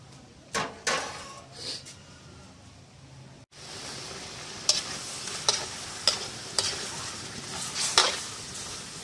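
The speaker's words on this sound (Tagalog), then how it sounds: "Tignan natin siyang kumulo." Ginataang labong, a creamy spicy coconut milk stew with bamboo shoots, cooking over a very strong gas burner, a steady faint hiss and bubbling broken by several sharp clinks and stirring scrapes.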